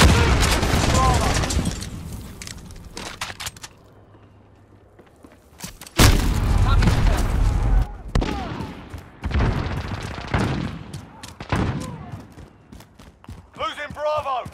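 A grenade explosion and gunfire in Call of Duty: Modern Warfare, with loud bursts of shots and booming blasts broken by quieter gaps, while voices call out over the combat.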